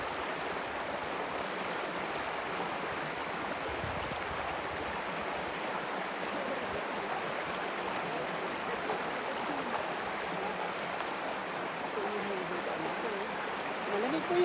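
Cold stream water flows steadily and close by as a constant broadband rush, unbroken from start to finish.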